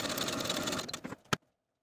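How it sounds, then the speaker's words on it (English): Sewing machine stitching darts in fabric for a ruffle top, a steady whirring run of rapid stitches that stops abruptly, followed by a short mechanical clack and silence. "Now sew your darts from the outer edge to the point"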